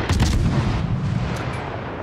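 Gun volleys from the destroyer Kamikaze in World of Warships: Legends sound as a heavy booming salvo with deep rumbling reports and crackling tails. The firing is close and loud, with no voices.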